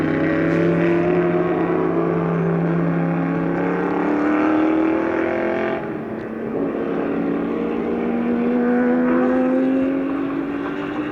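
Porsche race cars circulate on a racetrack, their engines sustaining loud, continuous whines that rise and fall in pitch as they pass, with one car's note fading briefly before another surges close by.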